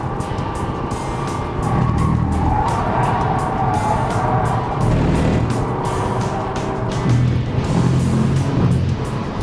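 An Audi A3 is driven hard around a race track, its engine roaring and surging close by as it rides the curbs, with tyre scrub and rising and falling revs through the corners.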